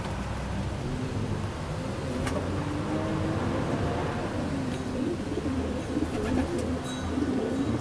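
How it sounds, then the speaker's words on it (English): Portuguese Tumbler pigeons, young squeakers, cooing softly in a low, steady murmur close by, with a continuous background hum and occasional faint rustles. "As you can see, these are real tiny birds."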